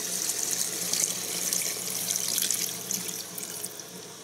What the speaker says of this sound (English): you're going to add 3 cups of chicken broth